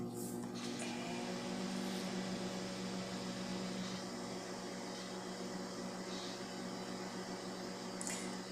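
A 1000-watt microwave oven runs at full power with a steady low hum and fan drone, faint and continuous, with a few soft clicks or crackles over it.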